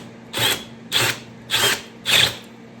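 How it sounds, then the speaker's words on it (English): Power drill boring out a part clamped to a welding table in a shop, four short loud bursts evenly spaced about half a second apart, close by with no talking. "then I take this and I drill this thing out"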